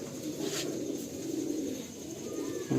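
A rare black pigeon at a loft gives a steady low cooing, faint and continuous, with no one talking.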